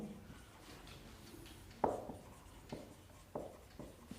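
Pen scratching across paper while working through a class 12 maths exam solution, a soft continuous scrawl with a few sharper strokes and taps, faint and close.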